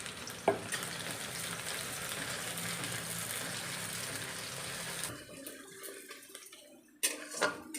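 Four chopped onions hit a hot pan for a chicken curry and sizzle in a steady, dense hiss for about five seconds. The sizzling then drops away, leaving scattered clinks and a brief stir near the end.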